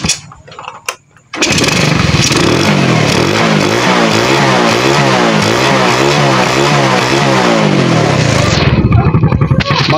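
A flood-damaged motorcycle engine, just repaired, catches after a short attempt and runs loud and close for about seven seconds with a choppy, uneven idle and throttle blips before cutting out.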